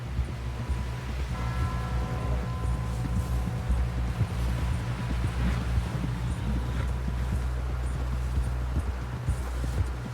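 Horse hooves pounding along in Red Dead Redemption 2, a steady rapid clip-clop rhythm under a droning ambient music bed, continuous and fairly close, with no talking.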